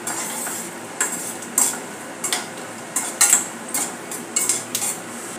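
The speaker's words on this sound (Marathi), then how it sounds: "शेंगदाणे आपल्याला चांगले लाल होईपर्यंत तळायचे आहे" Peanuts frying in a little oil in a pan, a faint background sizzle broken by repeated sharp clinks and scrapes of stirring every half second or so.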